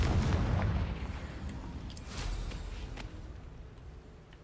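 In Hogwarts Legacy, the Confringo blasting spell lands as a deep, rumbling boom that fades out over several seconds, with a sharper crackling burst partway through and no talking.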